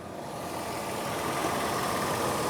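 A 2001 Nissan Pathfinder's V6 engine idles with a smooth, steady hum, heard close and alone with no talking.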